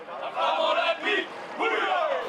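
A crowd of about 3,000 people gathered at Matavai Bay for the arrival of the Olympic flame shouts and cheers in loud collective surges, with a brief dip midway before another swell of voices.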